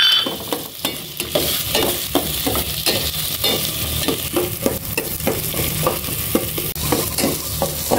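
Onion and chili sauté together in a pan, giving a loud, busy sizzle with rapid, repeated stirring scrapes and clicks throughout.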